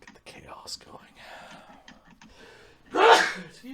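A single loud sneeze bursts out near the end, following quiet, murmured talk around a tabletop role-playing game session.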